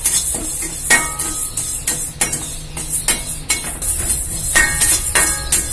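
A metal spoon scrapes and clinks against a pan while urad dal is roasted and stirred. Loud, repeated strokes come in an uneven rhythm over a soft dry sizzle, with no talking.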